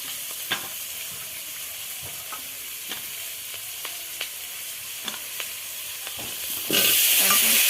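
Oil sizzles softly with occasional clinks and stirring scrapes, then the frying suddenly surges into a loud, hissing sizzle near the end as chopped onion and green chili go into the oil.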